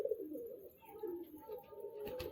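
Pigeon cooing in a quiet indoor loft near a jet-black male bird, soft low repeated coos running through the clip with a faint higher tone, close and gentle, no talk.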